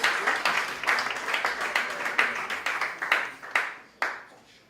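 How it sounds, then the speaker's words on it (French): Audience applauding a woman who passed a specialised educators' exam at a ceremony, a lively burst of clapping with distinct sharp hand claps standing out, gradually thinning and fading after about four seconds. "Veuillez l'applaudir s'il vous plaît, qui a réussi au concours"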